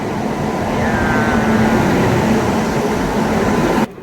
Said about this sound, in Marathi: ट्रेन आलेली आहे.